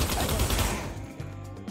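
Gunfire in a VR shooter video game, a dense burst of shots packed into the first part, then quieter scattered sounds trailing off.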